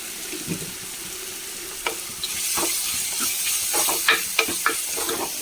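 Tomatoes cook in a pan with rock salt, a steady sizzle under scattered stirring scrapes and taps from a spatula, fairly close.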